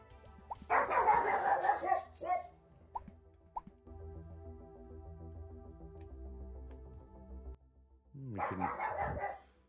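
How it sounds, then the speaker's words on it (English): A small pug barks indoors at a train outside, in two short bursts of yaps separated by a quieter hum. "My dog's barking at a train outside."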